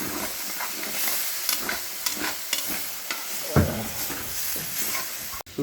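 Broiler chicken frying in a pan with ginger and garlic, a steady close sizzle broken by scraping stirring strokes and a few sharp clinks.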